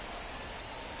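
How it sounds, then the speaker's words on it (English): Steady rain pours down during a video game's baseball broadcast, a dense, even hiss of drops holding at a quiet level throughout with no voices. "The rain is here, and it doesn't look like it's going away anytime soon"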